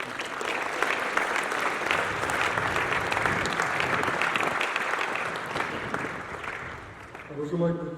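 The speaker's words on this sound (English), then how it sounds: "Please give our governors a huge round of applause." An audience claps for the college governors at a school speech day, with sustained, dense applause filling the hall for several seconds before it tails off and a voice begins at the end.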